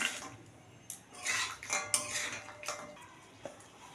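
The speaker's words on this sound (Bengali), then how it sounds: "এবারে লাউগুলোকে আমি ঢেলে দেব।" Gourd pieces and lentil dumplings tipped into a cooking pan, a quiet run of clinks and soft clatters as the food and utensil hit the metal.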